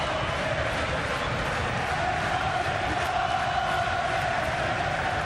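Boxing arena crowd cheering at a Nathan Cleverly versus Karo Murat bout, a dense continuous roar of many voices filling the space.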